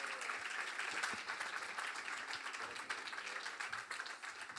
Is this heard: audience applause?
yes